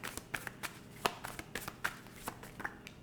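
Tarot cards shuffled by hand, a rapid series of crisp riffling snaps and soft slaps close up, with no talking.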